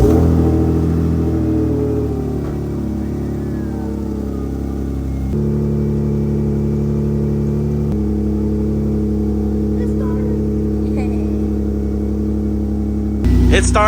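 A freshly reassembled engine cranks over and catches, settling into a steady, loud idle rumble close by with a few shifts in tone, then a brief burst of extra noise at the very end.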